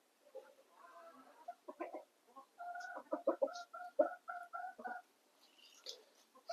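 Chickens cluck inside a small farm coop, a run of short, rhythmic clucks and calls rising in the middle of the stretch, fairly close and moderately loud with no talk over them.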